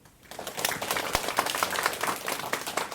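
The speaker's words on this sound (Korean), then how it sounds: "우리 수험생들 우리 격려하는 의미에서 우리 박수 한번." A room full of people bursts into applause, many hands clapping in a dense, lively patter that holds steady for a few seconds.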